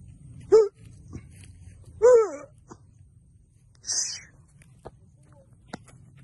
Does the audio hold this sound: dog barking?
yes